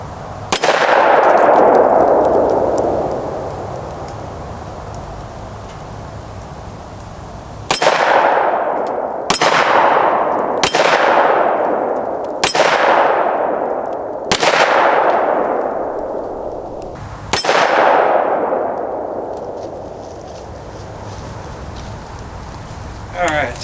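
A Glock 33 Gen 4 pistol fires at a shooting range: about seven loud, sharp reports, one early and then a quicker cluster, each leaving a long ringing decay.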